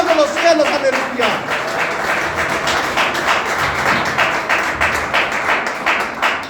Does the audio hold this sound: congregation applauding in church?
yes